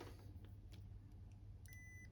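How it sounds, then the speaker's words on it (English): A multimeter set to continuity gives a brief, faint, high electronic beep while testing dead LED strip lights, heard near the end over a low steady hum. "I know my beep on my meter isn't that loud"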